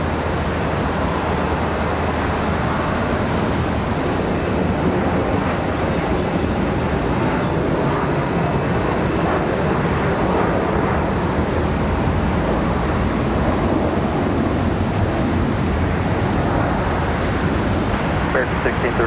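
An airliner takes off at Charlotte Douglas airport with a broad, steady jet roar and wind buffeting, heard from outdoors at a distance while a voice speaks over it.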